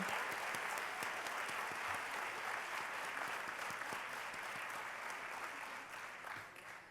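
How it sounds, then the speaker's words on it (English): An audience at a Radcliffe Day ceremony claps in sustained, dense applause, steady and fairly distant, fading slightly toward the end with no talking. "Please join me in welcoming and giving a round of applause to Evelyn."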